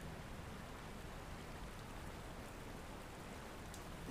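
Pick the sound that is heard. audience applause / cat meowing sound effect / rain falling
rain falling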